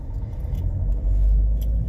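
A FedEx delivery truck rolls past on a road, its steady low engine rumble swelling slightly midway and holding throughout, with a faint metallic jingle on top.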